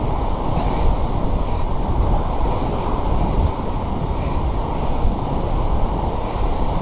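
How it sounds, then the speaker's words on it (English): Wind blows into a microphone beside the water on a beach run, a steady heavy low rumble and buffeting over distant surf, with no voices. "I don't know how good the audio is going to be on this because it's windy"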